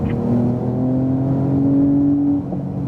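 A 2018 Porsche 911 Turbo S on a track drives off a corner, its engine note climbing steadily in a smooth, loud drone before easing off near the end; no voices.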